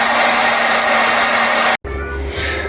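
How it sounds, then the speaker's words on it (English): A hairdryer blows a steady, loud whirring rush to warm the painted body of a King Motor T2000 desert RC truck. It cuts out abruptly for a moment, then resumes with a lower, rougher tone. "So with the heat lamps, hairdryer set up, keeps it all warm while the paint's drying"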